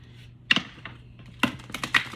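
Stiff brand-new tarot cards being shuffled on a small desk, giving a few crisp riffling clatters close by, with no talking.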